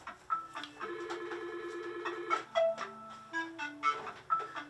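A landline telephone left switched on in a room rings with repeated electronic tones and warbling beeps over about five seconds, fairly quiet and steady, with no talk.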